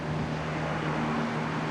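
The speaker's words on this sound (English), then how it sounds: "barring the sound of the car going past." A car drives past at about six feet beyond a fence, a brief, steady broadband whoosh of tire and road noise with a faint low hum, moderately loud and close.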